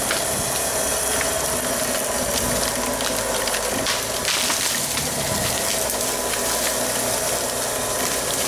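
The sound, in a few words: rear-mounted winch pulling a hung-up tree down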